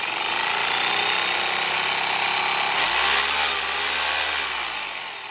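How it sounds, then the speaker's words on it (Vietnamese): Ryobi 800W three-function hammer drill turning a chisel bit, a steady whining motor hum that rises in pitch and intensity midway, then sustains with a bright high tone before easing slightly, close and loud, no talking. "Khi mà anh em cầm cái máy khoan lên, anh em gõ nè, đục, thì như vậy thì anh em sẽ thấy cái mũi khoan nó sẽ xoay"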